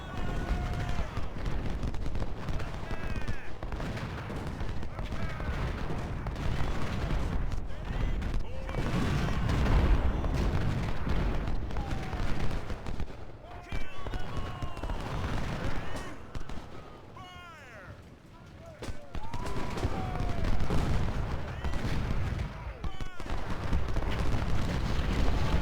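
Civil War battle in Ultimate General Civil War, Siege of Suffolk, with dense rolling gunfire and booming artillery blasts layered continuously, briefly thinning before swelling again, a voice talking over parts of it.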